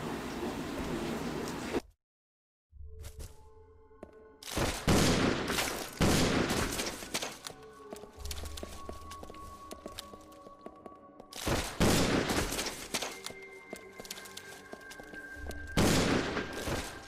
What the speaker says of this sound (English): we're just gonna shoot each spider that comes at us